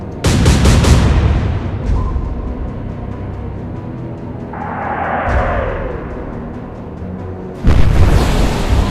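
Naval gunfire in the Atlantic Fleet game: a sharp, heavy cannon boom opens, then a quieter rumble and a rising whoosh of the shell, ending with another loud impact burst near the end.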